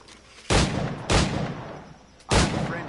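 Three sharp, booming gunshots from a period firearm in Assassin's Creed IV Black Flag, spaced unevenly over a few seconds, each with a short decaying tail, no talking.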